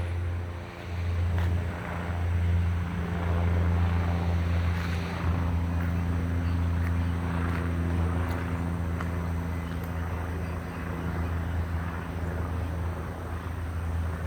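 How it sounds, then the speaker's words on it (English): A steady, low droning hum with a rhythmic rotor-like throb from a sheriff's department helicopter flying overhead at night, mixed with broad rushing noise, continuous throughout with no talking. "Whoever flies the helicopter for the Sheriff's Department"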